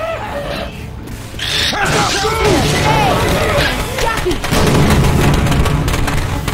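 A mounted machine gun fires in Left 4 Dead 2 amid a zombie fight. Rapid, dense bursts grow louder toward the end, mixed with shouting character voices, grunts and other game noise.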